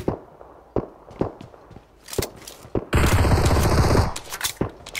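Shotgun gunfire in the mobile battle-royale game PUBG Mobile: several sharp single blasts spaced irregularly, then a dense roaring burst lasting about a second, all loud and close with no talk.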